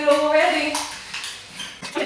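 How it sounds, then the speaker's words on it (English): Metal utensil scraping and clinking against a bowl as mini pizza ingredients with pepper are mixed together, close and busy, with a voice humming or speaking at the start. "And they mix it all together."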